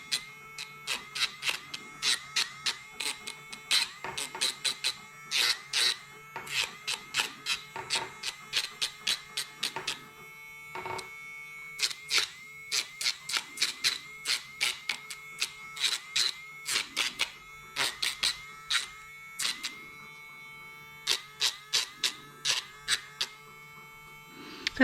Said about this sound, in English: the gap between the Dremel and the base of it is very, very short, so it's really hard to accidentally grab long hair and rip it.